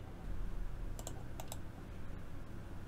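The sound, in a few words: typing a command on a computer keyboard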